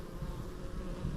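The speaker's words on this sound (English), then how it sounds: "we got some deer flies, horse flies buzzing around too" Deer flies and horse flies buzz around beehives outdoors, giving a close, steady insect drone that stays loud and even throughout with no talk.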